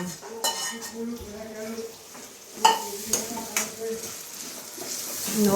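Cooked dal goes into a pan and is stirred, with metal utensils clinking and scraping against the pot over a soft sizzle.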